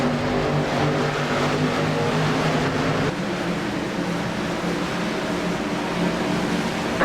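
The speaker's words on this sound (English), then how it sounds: "Green flag, green flag. The green flag flies. Mark Jackson, the loud pedal on the outside line" Race car engines roar together in a steady, loud drone as the pack accelerates hard at the green flag.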